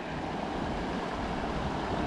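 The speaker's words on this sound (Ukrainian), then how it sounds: "Фіксуємо нашу річку." Steady broadband rush of a river flowing through the Carpathian mountains, continuous and fairly close, with no voices.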